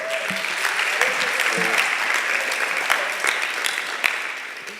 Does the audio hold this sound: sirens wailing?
no